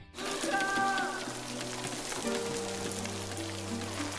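Rain starts pouring in the Pixar animated film Luca, a steady patter on surfaces that carries on under a tonal musical score.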